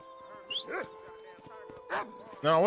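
A dog in the video game Red Dead Redemption barks and yips in a few short bursts, fairly near, with a sustained tone and other game sounds running underneath.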